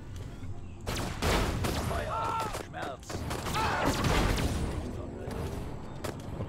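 Rapid gunfire crackles in bursts through the video game Destroy All Humans, with layered explosive pops and synthetic effects.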